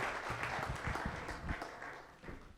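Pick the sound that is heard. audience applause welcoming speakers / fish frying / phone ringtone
audience applause welcoming speakers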